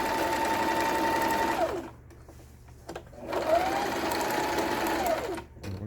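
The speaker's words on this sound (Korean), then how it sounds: "수리를 마치니까 지금 지그재그 바느질이라 하죠." A repaired Singer 3221 home sewing machine runs a zigzag stitch, a loud steady mechanical whir that slows and stops, then after a short quiet gap with a click starts up again and runs on, close and alone.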